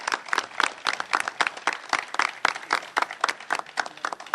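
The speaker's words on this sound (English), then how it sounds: "Let's give her a round of applause." Audience applause at a Prince George's County government event on domestic violence help, a brisk burst of many hands clapping at close range, dense and even throughout, with no talk over it.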